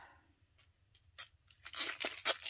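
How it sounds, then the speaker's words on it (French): Adhesive tape is peeled away in several quick, close ripping bursts, preceded by faint scratching sounds. "le plus dur, c'est d'enlever ces scotch"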